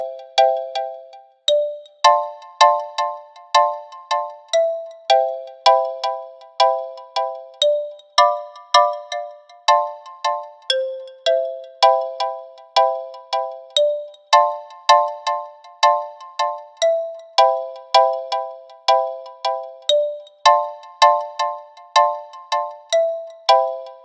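A GarageBand xylophone plays a repeating sequence of bright struck chords in a steady rhythm, each hit ringing briefly, close and clear with no talking.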